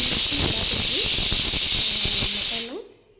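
Masala ingredients for a mutton sambar rice drop into hot oil and give a loud, bright, continuous sizzling hiss that cuts off sharply near the end, with someone talking underneath.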